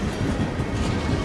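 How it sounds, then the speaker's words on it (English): A train from the game Assassin's Creed Unity rumbles past up close, a loud continuous roar with rhythmic clickety-clack from the wheels and no talking. "Oh no, not outrun the train."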